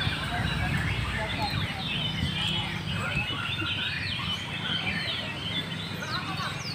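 Canaries trill and chirp in fast, overlapping bursts at an outdoor bird singing contest in Karawang, steady through the whole clip over a busy crowd murmur.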